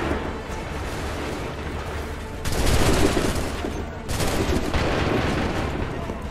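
Musket volleys crackle and boom in the Assassin's Creed 3 video game: a dense fusillade of overlapping gunshots in two heavy bursts over a constant battlefield roar, with faint voices in the background.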